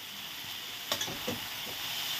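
Beans and eggplant fry in a pan for a Bengali vegetable dalna, with a soft steady sizzle and a few quick spatula stirs in the middle, heard alone.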